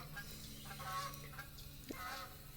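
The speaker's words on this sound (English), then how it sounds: "We have 2 geese flying overhead right now." Two geese honking as they fly overhead outdoors, a few faint, far-off calls scattered over steady background noise.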